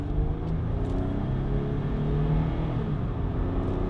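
A Jeep Grand Cherokee SRT accelerates, giving a loud, steady engine rumble heard from inside the cabin with rising harmonic tones and no talking.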